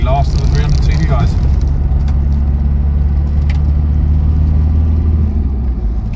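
A 1999 three-door Land Rover Discovery 300Tdi diesel with an R380 gearbox drives along with a loud, steady low engine and road rumble heard from inside, under someone talking.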